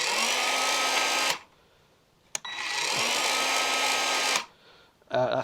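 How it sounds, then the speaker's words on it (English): An Evolution cordless power tool with no blade fitted spins a bolt in two steady high-pitched whirring runs, each about a second and a half to three seconds long, stopping abruptly, with a short click between them. "Obviously we ain't got a blade on there, so it's only going to turn that bolt, and as you can see, instant stop."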